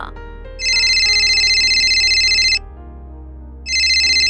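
A phone ringtone signals an incoming call at home: a loud, steady electronic ring lasting about two seconds, a brief pause, then the ring starting again. No voices are heard.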